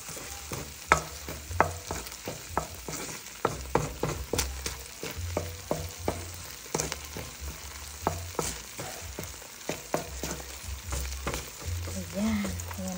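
Garlic and a little onion sauté in a pan with a constant sizzle, punctuated by frequent rhythmic clicks and scrapes of a spatula stirring.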